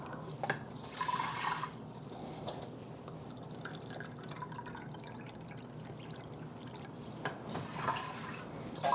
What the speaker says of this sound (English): I'm going to fill the cup with water